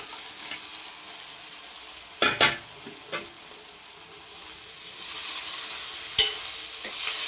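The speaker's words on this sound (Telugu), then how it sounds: "ఇప్పుడు ఇందులో ఉడకబెట్టుకున్న చిక్కుడుకాయలు వేసుకుందాము." Boiled broad bean pieces fry in oil with onions, a soft continuous sizzle broken by a few sharp clanks and scrapes of a spatula stirring the pan, with no voices.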